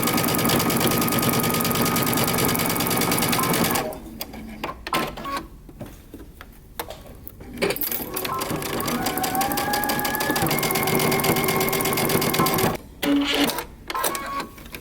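Sewing machine stitching together the band sections of a moto jacket with a 5/8 inch seam, a steady close mechanical whirr that pauses briefly several times before restarting.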